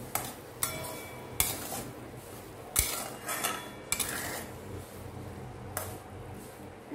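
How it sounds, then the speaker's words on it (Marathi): Sweet coconut rice flavored with cardamom powder is stirred in a pot, giving several sharp clinks and scrapes of a spoon against the metal over a low, steady background hiss. "एकदा मिक्स करूया."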